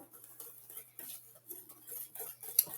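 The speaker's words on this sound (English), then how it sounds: "And then whisk it up" A whisk rattles quickly against a bowl while mixing batter for a chocolate peanut butter éclair cake: quiet, close, irregular metallic clicks and scrapes in short bursts, with no voice.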